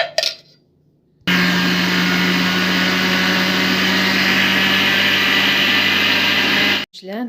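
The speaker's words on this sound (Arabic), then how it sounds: "دابا غادي نطحن الزنجلان." An electric grinder or blender grinds toasted sesame seeds for sellou, a loud steady whirring motor drone running continuously for several seconds after a brief quiet start, then cutting off.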